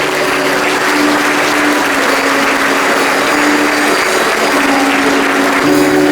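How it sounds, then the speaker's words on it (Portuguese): Sustained loud clapping from a large church congregation during a worship service, dense and continuous throughout, with a faint steady tone underneath. "Vamos aplaudir o nosso Deus."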